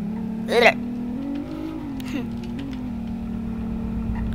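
The engine of a luxury car in the Roblox game Greenville holds a steady low drone with slight swells in pitch, while a person talks briefly over it near the start.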